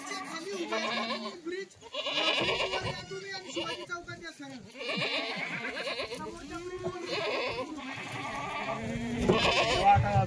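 Many goats bleat repeatedly at a goat sale, their cries overlapping close by. Voices and what sound like children's voices carry underneath.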